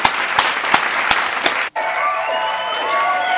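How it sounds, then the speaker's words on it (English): A short burst of a handful of sharp, loud hand claps in quick succession, then an abrupt cut to a quieter, steady background with a faint tonal hum. "Can I get a hand clap?"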